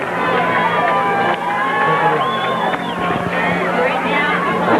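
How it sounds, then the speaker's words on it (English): A crowd at a 1984 Tarpon Springs high school soccer match makes a busy roar of chatter, shouts and scattered cheers, with whistles cutting through and a commentator talking over it. "A great crowd, and as I mentioned earlier, this really shows how soccer is growing."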